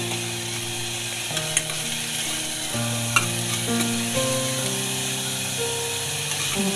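Fish masala sizzles in a pan while a spoon stirs it, giving a constant frying hiss. Several steady tonal whines shift in pitch underneath, with a few sharp scrapes and clicks from the stirring. No one speaks.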